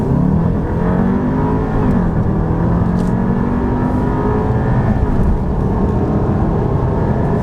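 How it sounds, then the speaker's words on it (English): Volkswagen Passat in sport mode with traction control off launching hard from a standstill, engine roaring loud and steady as it pulls through the revs, close and continuous with no talk. "If ever you've wondered what it's like to launch control a Passat"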